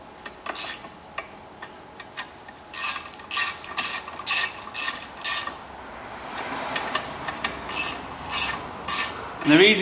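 A ratchet wrench tightens the 13 mm nut on a car's wishbone ball joint, giving bursts of quick, close metallic clicking strokes with short pauses between them and no talking.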